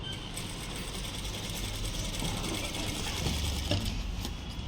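Sewing machine stitching a folded khaja patti strip, a fast steady mechanical whir and ticking of the needle that runs close and continuous throughout, with no talking.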